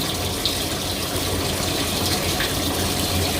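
Steady rushing water pours continuously into a jetted bathtub, loud and close, with a constant churning gush and no voices.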